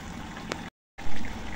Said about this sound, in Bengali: এই তো বলক চলে আসছে তরকারিটা